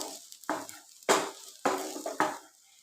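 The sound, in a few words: ghee frying on full flame while being stirred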